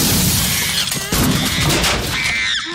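Glass shatters with a loud, sharp crash in a horror video game set in a hotel with a monkey receptionist, followed by scattered debris and noisy in-game effects for nearly three seconds.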